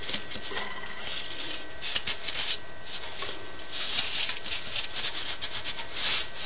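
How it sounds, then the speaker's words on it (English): Oiled bearings from a K55 stack-motor ceiling fan swished around by hand, giving a soft, continuous wet rubbing and shuffling sound with slight surges, close up and quiet, with no talking. "You hear like the wet bearing noise. I'll swish it around like that."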